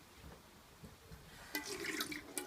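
Water runs from a kitchen tap, a broadband hiss that starts partway through and continues steadily close by, with a faint low rumble of room noise before it.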